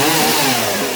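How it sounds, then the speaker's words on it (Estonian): A saw starts cutting into wood on a house being worked on, a steady motor-driven buzzing drone that holds continuously and loud throughout with no talking. "Toni hakkab nüüd saagima"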